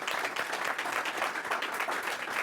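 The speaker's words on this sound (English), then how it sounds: "Please join me in giving another round of applause to our panelists." A dense, steady wash of audience applause for event panelists, many hands clapping close together at an even level for the whole stretch, with no voices.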